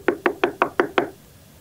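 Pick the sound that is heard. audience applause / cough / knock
knock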